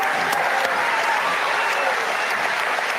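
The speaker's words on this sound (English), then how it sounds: "That deserves a round of applause." Live audience at an on-stage conversation breaks into steady, full applause, a close continuous patter of many hands with light crowd murmur beneath.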